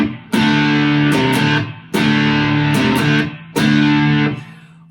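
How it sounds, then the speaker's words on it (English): Distorted electric guitar played palm-muted through a power-chord riff, with three loud chugging phrases that start sharply and ring out briefly between them, clear and close with no voices. "I'm also palm muting here."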